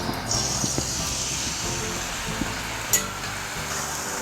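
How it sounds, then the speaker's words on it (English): A pastry tube fries in hot fat until light golden brown, making a constant close sizzle with a brief clatter partway through and no one talking. "We're going to go in here and fry it."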